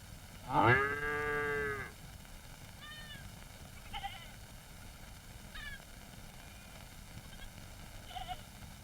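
A cow gives one long, loud moo close by, followed by fainter, shorter calls from livestock in the background of an outdoor farmyard scene.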